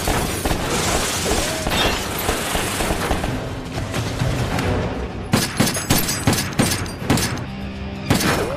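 Gunfire in a film shootout with Yakuza gangsters. After a dense, loud stretch of crashing action, sharp bursts of shots and impacts fire in quick irregular volleys.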